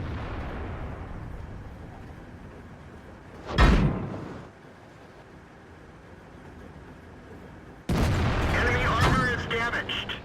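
World of Tanks cannon fire from a T34 tank: a single sharp, heavy boom lands mid-clip over quiet rumble, followed later by a louder burst of impact and crashing noise.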